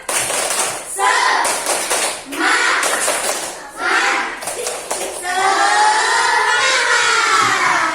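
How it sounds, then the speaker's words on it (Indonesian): An Indonesian classroom of children doing a rhythmic spirit clap led by their teacher, bursts of patterned clapping mixed with chanting voices, close and loud, broken by short pauses. "Tepuk semangat!"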